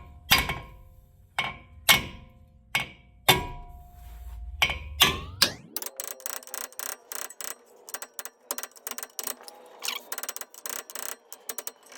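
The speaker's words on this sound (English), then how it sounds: "we're going to hammer right here on each location pretty hard" Hammer blows strike a brake rotor on a Hyundai Veloster, about seven loud metallic whacks ringing out over the first six seconds, followed by a dense run of quicker, lighter clanks and taps.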